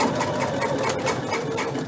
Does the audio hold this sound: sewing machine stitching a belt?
yes